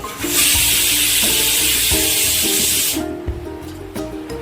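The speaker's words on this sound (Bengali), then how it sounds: "এবার মশলাগুলো আমি একে একে কড়াই দিয়ে দেবো।" Whole spices drop into hot oil in a kadai wok and give a loud, sharp sizzle and hiss for about three seconds, which then dies back to a quieter crackle.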